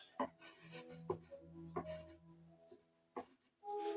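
Match striker material is scraped into a small container and stirred, giving a series of short scratchy clinks and rubs, close and quiet, with someone speaking in between.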